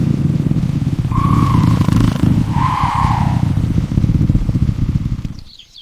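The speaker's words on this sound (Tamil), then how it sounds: "இந்த புல்லட் பைக் ரொம்ப ஜோரா இருக்கே." A Bullet motorcycle engine rumbles loudly and steadily nearby, with the throttle rising and falling a couple of times before the sound cuts off abruptly.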